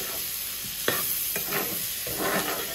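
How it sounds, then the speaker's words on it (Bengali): A spoon stirs and mixes a fish dish in a pan, giving several scraping strokes over a soft, steady sizzle of frying, with no talking. "এখন একটু সময় মিক্স করে দেবো"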